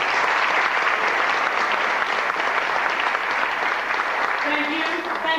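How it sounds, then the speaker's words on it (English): Loud, sustained applause from a crowd at Howard University fills the clip, steady throughout with a brief voice emerging near the end. "Please give her a quick round of applause."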